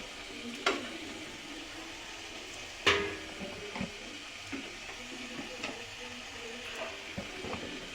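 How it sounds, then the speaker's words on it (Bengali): Flour and sugar pitha cakes frying in hot oil, a soft steady sizzle with a few sharp clinks and scrapes of a utensil stirring in the pan, no talking. "সবগুলো এভাবে ভাজবো আর শিরার মধ্যে দিয়ে তুলে নেব।"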